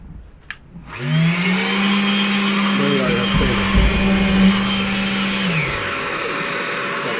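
Festool sander starts up with its dust extractor after a brief click, then both hum and whine steadily at close range with a few rattling variations.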